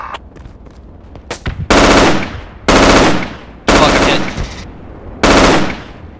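Machine gun fire in the military shooter game Project Reality: four loud, sustained automatic bursts of roughly half a second to a second each, after a few sharper single shots, with no talk over them.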